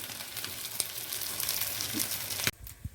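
Aloo tikki bhalla frying in ghee on a flat pan, a close, steady crackling sizzle with occasional pops that cuts off abruptly near the end.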